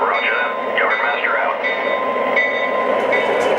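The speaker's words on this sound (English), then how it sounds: "Now here we have the train with a light load." Steady rumbling of a lightly loaded model SF NW2 switcher train in motion with bright tonal squeals and hum layered on top, continuous and fairly loud throughout.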